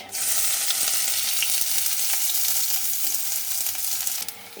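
Chopped onions frying in hot mustard oil with black cumin and a dried chilli in a kadai, a steady close sizzle broken by soft stirring clicks.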